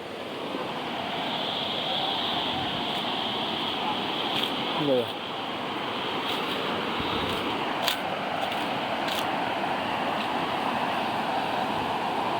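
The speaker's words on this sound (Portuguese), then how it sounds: "Cachoeira, tal de cachoeira chamada Berro d'Água." The Berro d'Água waterfall roars in a dense, constant wash of falling water, loud and close, with a brief spoken remark over it.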